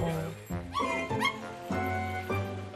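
A puppy yips and whimpers in high, whiny cries during water play outdoors, repeating under and between people talking.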